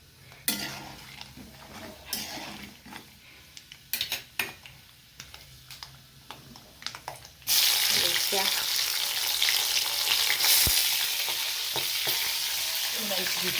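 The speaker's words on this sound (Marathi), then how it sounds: "तर हे असं व्यवस्थित ह्याला फ्राय होऊ द्यायचं" Peanuts frying in hot oil, first with scattered clinks and scrapes of a spoon stirring the pan, then a loud, steady, continuous sizzle taking over with occasional stirring knocks.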